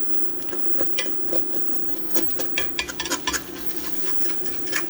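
A utensil stirs shredded cheese into a dish, making a run of soft scraping clinks and sticky tapping strokes against the pan, close and fairly quiet, with no talking.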